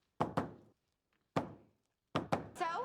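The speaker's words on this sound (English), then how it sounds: "This is the secret knock." Knocking on a door in a rhythmic secret pattern: a quick pair of solid thuds, one single thud after a pause, then another quick pair, close and sharp with a resonant ring, nothing else heard.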